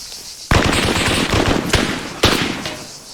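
Rapid automatic gunfire rattles in Arma 3, loud close bursts kicking in sharply with a hard crack and continuing in fast volleys, with a second sharp onset partway through.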